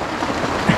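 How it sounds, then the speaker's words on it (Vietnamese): Rain falling steadily on a boat in a rainforest, a dense, even patter close by with a faint thump near the end. "mưa cũng bớt rồi"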